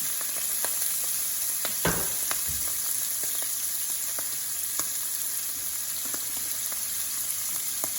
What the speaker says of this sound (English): Cook them in a frying pan with some oil and garlic seasoning.